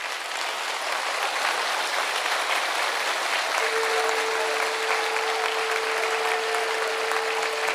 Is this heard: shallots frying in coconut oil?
no